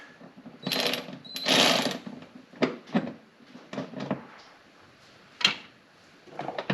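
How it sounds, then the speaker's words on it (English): Bolts being started by hand on a Ford Bronco LED tail light: close rustling, clinking metal taps and scrapes in irregular bursts, with a few sharper knocks, no talking. "I'm just going to get at least one of the bolts started here at the top."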